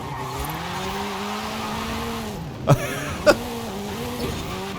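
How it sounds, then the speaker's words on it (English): A Hyundai hot hatch whipped around on the handbrake, its engine droning steadily before two sharp thumps or tyre chirps break in, then the engine note carries on under full throttle, fairly close. "Let's just whip it in with the handbrake and then just floor it"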